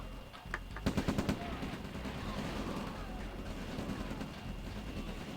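In a real-time strategy video game, rocket troopers attack a Tesla coil, producing a rapid burst of gunfire-like shots followed by a dense, rumbling stretch of battle noise under a commentator's voice.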